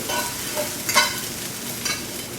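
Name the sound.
peppers being sautéed in a pan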